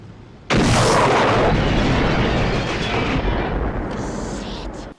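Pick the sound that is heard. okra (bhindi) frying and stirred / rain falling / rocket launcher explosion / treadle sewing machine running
rocket launcher explosion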